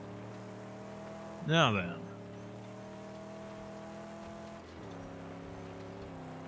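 Car engine drones steadily with a low harmonic hum while driving in the video game Mad Max, shifting pitch near the end; a brief rising voice cuts in over it early on.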